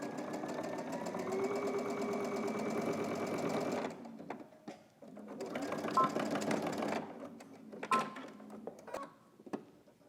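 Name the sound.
sewing machine stitching binding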